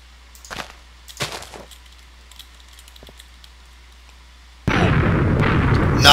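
Bombing explosions in a Minecraft griefing raid: two short blasts early on, a faint pop, then a loud, sustained roaring burst that fills the last second and a half.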